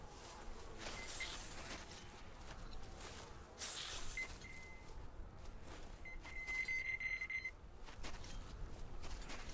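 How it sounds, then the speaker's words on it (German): Faint, thin electronic beeping repeats in the Metro Exodus video game, with a sustained high tone near the end, over quiet ambient game noise and soft footsteps. "Aber wo kommt jetzt dieses verdammte Piepsen her?"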